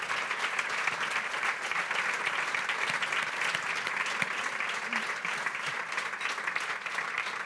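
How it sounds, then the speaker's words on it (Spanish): Applause from an audience at a political party's 130th anniversary closing event in Palma fills the room, a dense steady clatter of many hands, moderately loud and continuous throughout with no talk over it. "Un aplauso para ellos también, que se lo han currado mucho."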